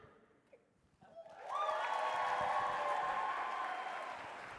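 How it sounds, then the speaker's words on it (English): An audience breaks into applause, a steady wash of clapping that starts after a second of quiet and holds at a fairly loud level to the end. "That's who we want to clap."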